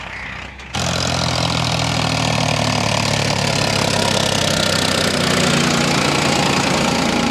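After a brief quiet moment, the heavy diesel engine of a Farmtrac 45 Powermaxx 50 HP tractor starts up and runs steadily with a loud, knocking, vibrating chug close by.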